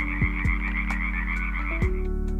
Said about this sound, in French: ces créatures étonnantes comme les grenouilles domestiques